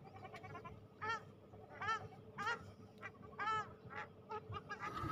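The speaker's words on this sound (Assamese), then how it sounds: "ইয়াত আপোনালোকে দেখিছে মোৰ পিছপিনে হাঁহ কেইজনমান দেখিছে" Domestic ducks or geese at an outdoor picnic spot honking and calling, a series of about eight loud nasal honks in irregular bursts over a low background murmur.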